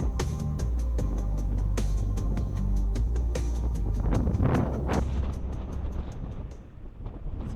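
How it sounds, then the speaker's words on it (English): Wind buffeting a microphone outdoors, low rumbling gusts with thumps and crackles, easing off toward the end. "It's a bit windy."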